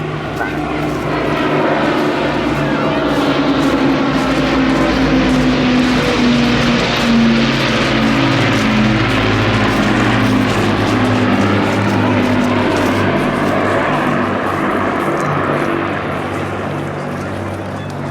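At an Eastbourne air show, the RAF Battle of Britain Memorial Flight's Lancaster bomber and Hurricanes pass overhead with a loud, continuous piston-engine drone and propeller roar that swells and shifts in pitch as they fly by; a voice talks over it.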